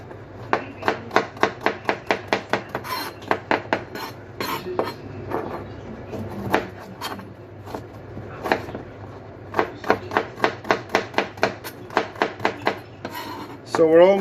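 A knife chops parsnips on a cutting board in quick, regular runs of sharp taps, pausing briefly between bursts, close and clear.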